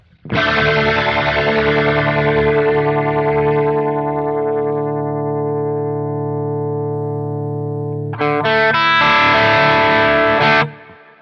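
A distorted electric guitar chord rings through a Quad Cortex modulation effect and slowly decays over several seconds, then a second loud strummed chord rings briefly and cuts off.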